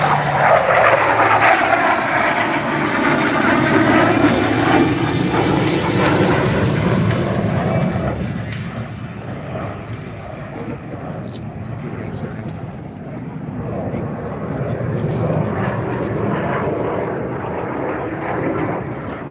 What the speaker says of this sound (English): the F-16 Fighting Falcon and the knife edge pass